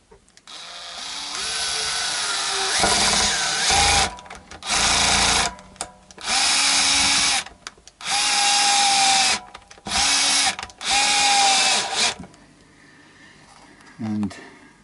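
A drill drives new screws into a Stratocaster-style partscaster guitar in five loud, close bursts of a few seconds each, whining up and down in pitch, separated by short pauses, with a brief weaker burst at the end.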